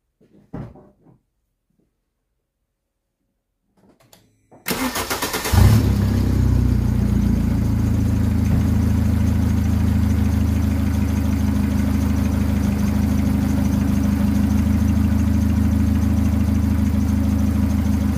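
A car engine, just after a regeneration treatment, starts with a sharp burst following a few quiet clicks and then settles into a steady, loud, close idle that runs to the end.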